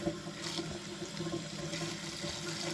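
Water from an indoor winter aquarium tank drains steadily into a catch system, a continuous close rushing and trickling flow with no pauses.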